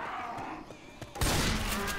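Gunfire in the Left 4 Dead 2 video game: a low, steady background of game noise suddenly gives way to a loud, dense burst of shots that rolls on through the second half.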